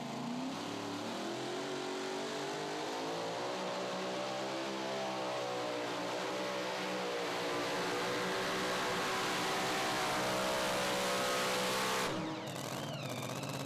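A mini rod pulling tractor called Stress Relief revs hard at a Pro Pulling tractor pull in Goshen, Indiana, a loud sustained engine roar climbing and holding in pitch before cutting off near the end.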